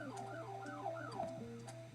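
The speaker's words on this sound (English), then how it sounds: "And what's that police car sound effect?" A police car siren effect in the Roblox video game wails up and down in repeated sweeping cycles, faint and steady over a low background hum.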